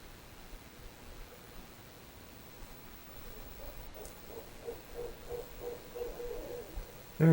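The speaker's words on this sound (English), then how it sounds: "It's a barn owl, I think." A barn owl calling at night, a faint run of repeated tonal hoots rising partway through over a steady hiss of background noise, distant and barely above the ambience.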